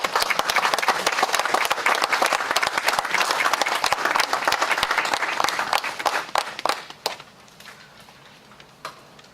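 Audience applause fills a city council meeting, steady dense clapping from many hands that stays loud for several seconds, then thins to scattered individual claps before fading out.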